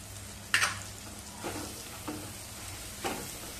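Coriander and cumin powder sizzle gently in a pan while a spoon stirs, giving a soft, steady hiss broken by a few scraping swishes.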